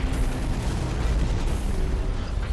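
An enemy base turret fires in the mech combat game Hawken, producing a dense, continuous barrage of heavy booming blasts at steady loudness throughout.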